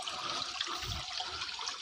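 Small forest waterfall, a steady close rush and splash of running water with no voices.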